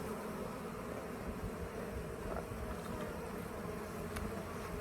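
Africanized hybrid bees buzz steadily inside an opened top bar hive, a dense, continuous swarm drone filling the whole stretch at close range with no talk.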